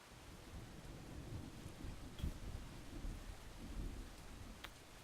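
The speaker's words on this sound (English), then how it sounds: "I even like the sound of in-game rain." Quiet, steady rain hisses alongside low rolling thunder, with a few soft rumbles swelling and fading, in the Brothers: A Tale of Two Sons video game; no voices are heard.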